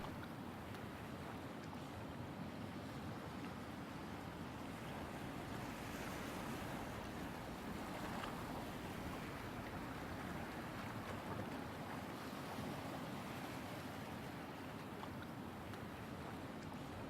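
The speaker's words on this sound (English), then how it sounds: "We are slicing through the water." Steady rushing wash of a ship cutting through the sea in European Ship Simulator, broadband surf and wind noise holding constant with gentle swells in intensity.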